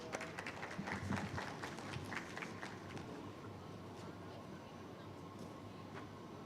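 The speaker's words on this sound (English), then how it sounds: "Huge round of applause for everyone." Applause from the audience at a banking forum event closing ceremony rings out as a faint, steady patter of many clapping hands. It carries on for several seconds in a large room, fading slightly toward the end.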